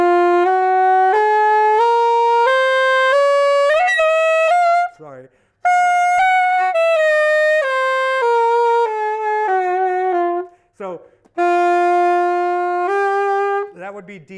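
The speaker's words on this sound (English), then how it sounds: "this was a piece that's actually based on an Iraqi scale" A sustained melodic line on an Iraqi scale of held, singing notes stepping through microtonal half-sharp and half-flat intervals, loud and close, with short pauses and brief vocal sounds between phrases.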